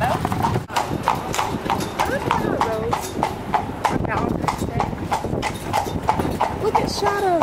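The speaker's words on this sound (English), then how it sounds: "we're currently on a horse-drawn carriage in Dublin, Ireland" Horse hooves clip-clop in a steady rhythm as a horse-drawn carriage rolls through the streets of Dublin, Ireland, close and loud, with people talking over the hoofbeats.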